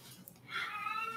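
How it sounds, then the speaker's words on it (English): A pet cat gives a brief, faint meow indoors, a soft drawn-out cry in a quiet room. "Please excuse my cat having a little aneurysm right now."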